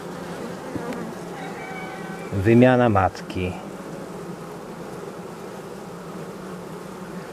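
Steady buzzing of many honeybees at a hive in goldenrod season, continuous throughout, with a voice speaking briefly in Polish near the middle.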